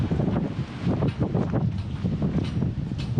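Strong outdoor wind gusts and buffets steadily against the microphone at close range, a continuous rough roar with no voices, at a high, exposed spot with a view.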